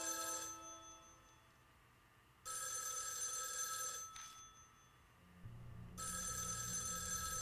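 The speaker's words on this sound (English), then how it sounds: "Are we supposed to answer the phone?" A telephone rings in the horror video game Spirit Hunter NG, with bursts of bright electronic ringing broken by short pauses and a low background drone, faint overall with no talking.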